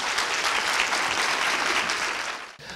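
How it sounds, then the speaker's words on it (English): A steady wash of audience applause fills a lecture hall for Dr. Sellers, dense and even throughout before cutting off abruptly near the end. "let's give Dr. Sellers another round of applause"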